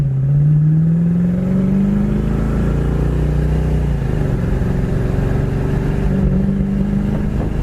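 A 1971 Pontiac LeMans convertible engine pulls hard and loud, its droning tone climbing steadily before dipping as the transmission kicks down, then carrying on at a lower, steady roar with no voices.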